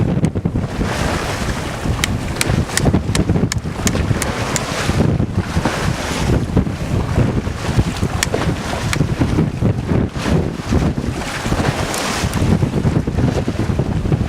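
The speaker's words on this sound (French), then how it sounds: "il y a un peu de houle, mais il y a pas mal du vent" Strong wind roars across the microphone on a sailing boat at sea in a light swell, a loud, unbroken rush with gusty buffeting and water sloshing underneath throughout.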